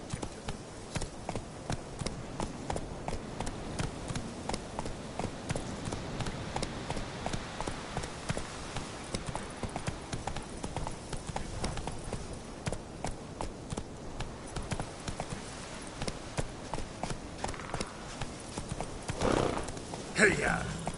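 Roach, a horse in The Witcher 3: Wild Hunt, gallops in a fast, steady clip-clop of hoofbeats, with a brief whinny near the end, while a person talks over the hooves.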